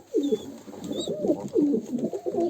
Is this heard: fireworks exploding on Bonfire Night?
no